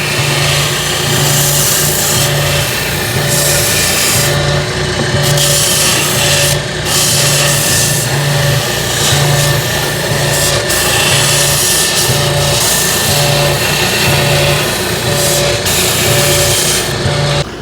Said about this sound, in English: Before we put the table together, we're just gonna give them a quick sand.